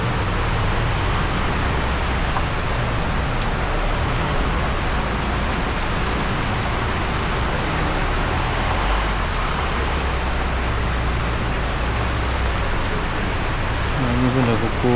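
Steady rain falling while someone shelters from it on a walk near Kuah town, Langkawi, a dense constant wash of noise that fills the whole stretch without a break.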